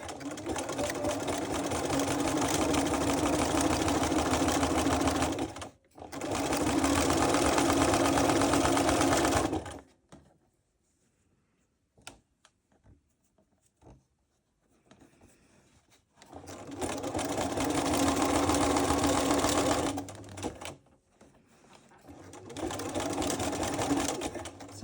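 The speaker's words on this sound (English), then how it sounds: "Just pop the needle in, do a couple of stitches forwards and reverse just to secure the end." A sewing machine stitches sash cord for a rope bowl in loud, steady whirring runs of several seconds each, separated by near-silent pauses with faint clicks.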